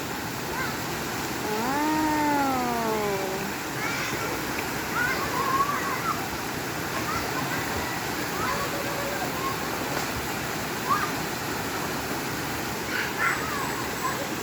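Waterfall at Piit Falls in Pangil, Laguna, a steady broadband rush of falling water continuing throughout at moderate level, with people talking over it.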